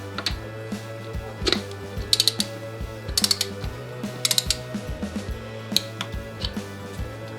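Ratcheting clicks and metallic ticks from a torque wrench tightening the air filter bolts on a Harley-Davidson FXDL, set to about 5.5 newton meters. Short bursts of clicking repeat over a steady low mechanical hum, close and fairly clear, with no talk.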